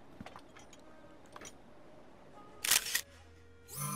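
In The Legend of Zelda: Breath of the Wild, an in-game camera shutter fires as a photo is taken. A sharp mechanical click-burst stands out over quiet background sounds, and a second bright rising tone follows at the end.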